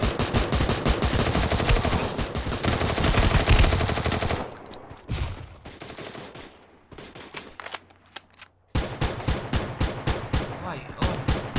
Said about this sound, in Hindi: भाई गोलियां शुरू हो गई चलनी